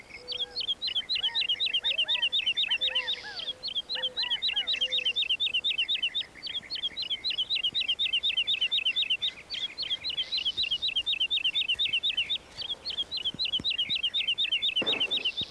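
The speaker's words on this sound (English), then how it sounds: "That sure was a pretty song you were whistling, Thrush" A bird sings a rapid, repeating series of high chirps and whistles, continuous and fairly close, with a few softer calls in the background.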